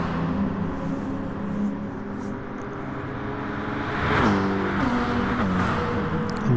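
Two Nissan GT3 race cars in Gran Turismo Sport running side by side toward a corner at the St-Croix circuit, a steady layered engine drone with rising and falling harmonics that briefly climbs as a car accelerates past.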